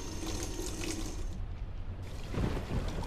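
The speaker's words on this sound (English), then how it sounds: "Water is still getting through, despite the flannel, but much less than what's flown into the bathtub." Water gushing and splashing continuously from an overflowing bathtub in the adventure game Black Mirror 2, with a heavier burst of splashing near the end, steady and fairly close.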